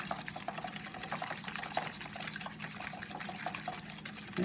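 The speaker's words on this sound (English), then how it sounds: "So you want to whisk it very vigorously for a good 30-40 seconds and without stopping." Eggs for an omelette are whisked vigorously and without stopping in a bowl, giving a fast, steady, close wet clicking and sloshing that continues throughout with no talking.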